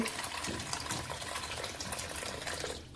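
Water pours steadily onto a spoonful of fenugreek seeds with a splashy, gushing stream, close by and continuous for a few seconds before easing off.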